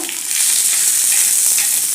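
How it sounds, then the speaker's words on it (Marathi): Loud, steady sizzling of onion frying in a little oil on a griddle, a dense crackling hiss throughout with no voices. "आता हा कांदा या तेलावर आधी घालायचा"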